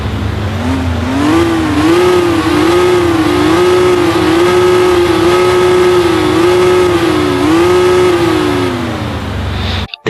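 A Lamborghini Veneno engine in the video game Car Simulator 2, loud and close, a sustained tonal engine whine rising and falling in repeated revving waves for about ten seconds before cutting off abruptly.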